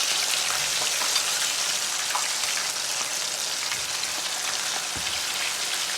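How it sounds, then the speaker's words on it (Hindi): Frozen french fries dusted with rice flour fry in hot oil, giving a dense, even, close sizzle and crackle that holds steady throughout without any talking. "इसके अंदर असी डालिया चावल का आटा, तो इसमें असी फ्राई करना शुरू कर दिया"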